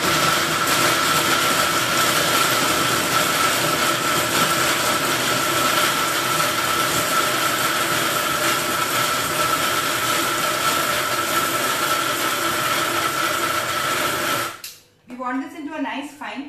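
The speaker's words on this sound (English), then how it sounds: "be prepared for the sound now because my mixer is going to be on" A kitchen mixer grinder whirs loudly and steadily, grinding paan into a fine paste, then cuts off abruptly near the end as a voice begins speaking.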